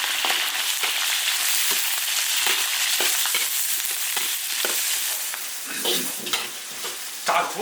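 Star anise frying in hot oil for a hotpot base gives a continuous close, bright sizzle with scattered crackles and pops, growing busier and more spattery toward the end.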